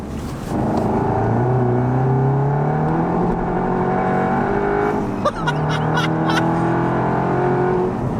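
A 488-horsepower manual Cupra pulls hard in third gear with wheelspin, its engine note climbing steadily and loudly from inside the cabin, with a brief gearbox or tyre chirp near the end.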